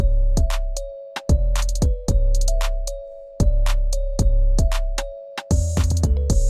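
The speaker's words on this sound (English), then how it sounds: "basically sounds like this, like a woodbox sound sort of thing." Hollow, knocking woodblock-like hits in a syncopated beat pattern, layered over deep bass thumps and a sustained mid tone, loud and close with no voices.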